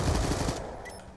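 A rapid burst of machine gun fire in Black Ops 2 on the Nuketown map, dense and loud for about half a second before it cuts off into quieter game ambience.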